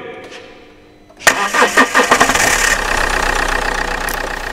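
A car engine cranks and catches after a failed start, giving a sudden loud burst of rhythmic turning-over pulses that settle into a steady close idle.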